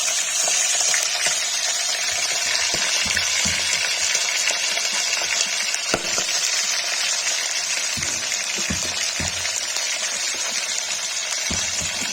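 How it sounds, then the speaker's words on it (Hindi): Constant loud sizzle of chicken liver frying in hot oil, with occasional pops and crackles, close up and uninterrupted. "नमक डाल के फ्राई कर रही हूँ, ये फ्राई हो जाएगा"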